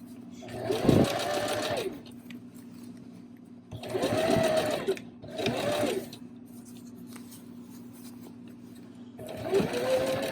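A sewing machine stitches gathers on a dress bodice mock-up at a 5/8 seam, running in three or four short bursts of rapid whirring separated by quiet pauses, close and clear.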